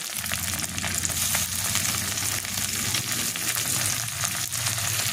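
Chopped tomato frying in oil with cumin powder, a dense continuous sizzle that holds steady and close throughout, with faint stirring underneath.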